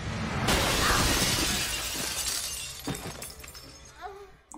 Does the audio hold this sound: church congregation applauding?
no